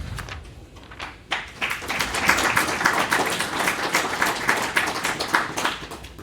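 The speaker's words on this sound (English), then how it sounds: "A warm applause for Gianluca." An audience at a conference panel on critical infrastructure security applauds a panelist, scattered claps at first that swell into steady moderate applause from a seated crowd.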